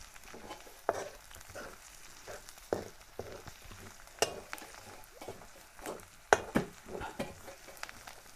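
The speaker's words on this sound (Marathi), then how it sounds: "चला आता कांदा लसूण कढीपत्ता यांची आपण फोडणी घेतोय" Onion, garlic and curry leaves frying in oil for a tempering for amti, a soft sizzle under repeated stirring scrapes and light clinks of a spoon against the pan, no speech.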